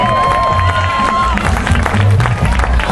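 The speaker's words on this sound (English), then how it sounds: "Let's give this guy a big round of applause." A crowd at a Tough Mudder obstacle course event in North West England claps and cheers for a participant. The applause is a steady, dense wash of noise, with voices mixed in.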